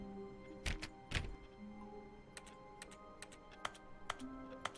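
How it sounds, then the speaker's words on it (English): Scattered keyboard clicks in The Stanley Parable sound alone and fairly quiet against a low hum. They come as irregular single taps, with a couple of stronger thunks near the start and lighter clicks toward the end. "if ever I'm like just clicking in the air, it makes a keyboard sound"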